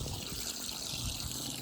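Water from a spring-fed marina supply runs steadily into a boat's water tank through a sediment filter, a continuous close hiss and trickle with no break.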